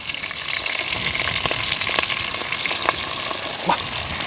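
Chicken frying with thinly sliced onions and green chillies, an even, fairly loud sizzle with bursts of crackle and stirring, steady for the whole stretch with no speech.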